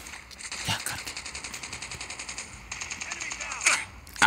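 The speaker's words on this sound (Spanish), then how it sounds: "¡Ay, me están disparando!" Rapid automatic gunfire crackles in Call of Duty Mobile, with several fast bursts of shots repeating at a steady clip and a few sharper reports near the end, at moderate volume.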